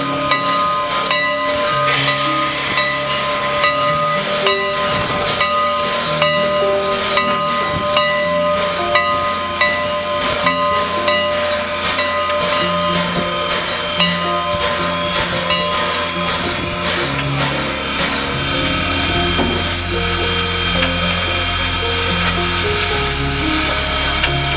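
Strasburg Railroad steam locomotive coupling to an eight-car passenger train, with loud, continuous steam hiss and whine over low mechanical rumble, scattered clanks and knocks, and no voices.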